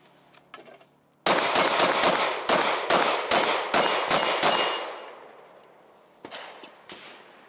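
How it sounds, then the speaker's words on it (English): Rapid gunfire from a Springfield Armory XD Mod 2 handgun at a target range, about ten loud, close sharp shots in a fast irregular string, followed by a short pause and a few faint metallic clinks. "he has no idea how many shots it'll take to drop his next threat"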